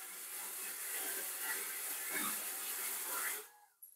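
A small automatic household water pump runs with the tap open, giving a steady close hiss of flowing water that cuts off abruptly near the end.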